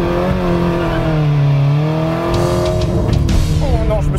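A car engine revs hard and climbs in pitch as the car accelerates to push through a bush, loud and close, then rough scraping and rustling follow as it ploughs into the brush.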